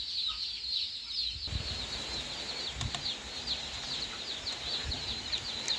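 Five-week-old broiler chickens on a poultry farm keep up a steady chorus of high clucks and peeping calls, close and continuous, with occasional wing flaps and soft thumps underneath.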